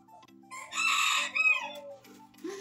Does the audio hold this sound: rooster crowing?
yes